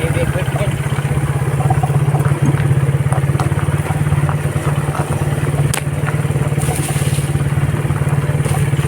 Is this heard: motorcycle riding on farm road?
yes